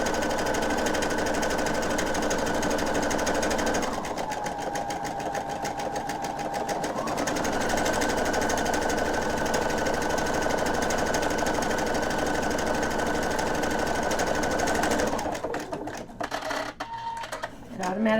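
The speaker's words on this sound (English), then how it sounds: "just press start, and the machine will do the stitching for you" An automatic buttonhole foot on a home sewing machine stitches a buttonhole, a steady, loud mechanical whir with rapid needle chatter that shifts in pace partway through and cuts off near the end.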